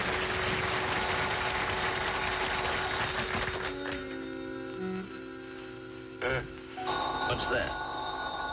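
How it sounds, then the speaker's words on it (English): A telephone rings at four in the morning in a filmed Jack Benny TV comedy scene, a faint steady ring persisting under other sounds before fading, with thumps and bursts of noise later on. "The phone."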